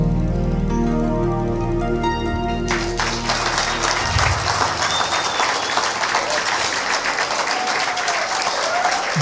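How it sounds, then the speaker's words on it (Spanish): Audience applause fills a hall during a motivational talk about happiness, starting over a fading musical passage and then swelling into a steady, dense wash of clapping that continues loudly to the end. "ese aplauso es para Él y la gloria es para Él"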